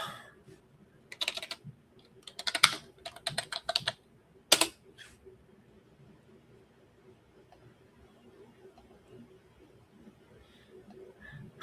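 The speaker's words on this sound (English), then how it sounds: "Let's see, I'll type it up." Bursts of keyboard typing on a computer, quick clusters of key clicks in short runs over the first five seconds, then a quiet room tone with faint background murmur.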